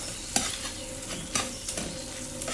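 Egg thoran mixture with chilli and pepper is stirred and fried in a pan, giving a steady sizzle with sharp scraping strokes of the spoon at irregular intervals. The sound is close, and no one talks.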